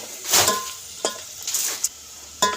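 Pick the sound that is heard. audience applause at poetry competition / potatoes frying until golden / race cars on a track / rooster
potatoes frying until golden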